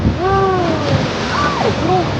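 Ocean waves break along the shore at Yeongdeok on a cold, windy day, a steady loud wash of surf that fills the whole clip while excited voices talk over it.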